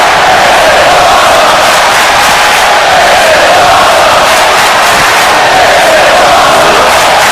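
Crowd in the WWE 2K25 wrestling game roars steadily for the whole stretch, a loud, continuous wash of arena cheering with no breaks.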